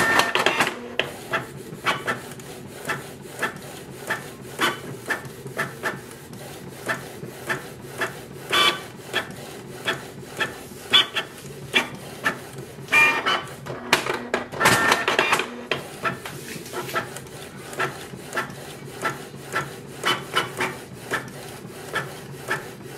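A Canon Pixma G3260 all-in-one printer runs a print job, producing a steady stream of rapid mechanical clicks, rubs and feed noises with a few louder bursts, close and continuous with no talking.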